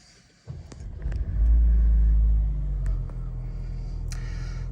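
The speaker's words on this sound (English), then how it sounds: "So we'll start the car." A Mercedes-Benz GLA 200 AMG Line Edition Plus engine cranks and catches, surging to a deep rumble before easing into a steady, close idle, with a few light clicks from the cabin.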